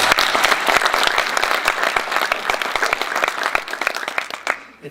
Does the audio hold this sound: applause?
yes